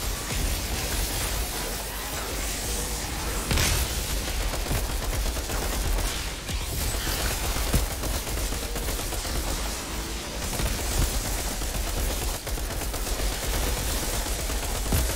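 Dense, continuous video game gunfire in a first-person shooter, with rapid shots and noisy bursts throughout the full length, steady and loud with no clear pauses.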